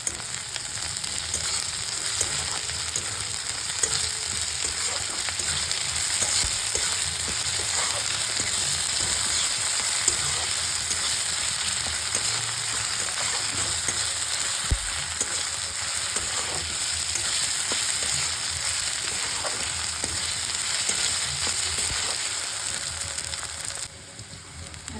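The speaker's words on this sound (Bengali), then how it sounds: "এতে 1/2 টিস্পুনের মতন আদা রসুন বাটা দিয়ে দিলাম, দিয়ে ভালো করে কষিয়ে নেব।" Fried onions with ginger-garlic paste crackle steadily in a pan for okra masala, a constant close sizzle with occasional scrapes and knocks of a spoon stirring, continuing without a break.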